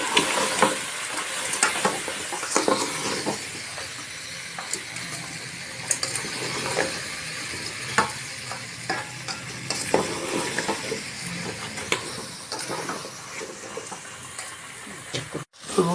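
Jujube pickle mixture frying in a pan with steady stirring: a continuous sizzle with repeated scraping and clinking of the spoon against the pan throughout, and no talking.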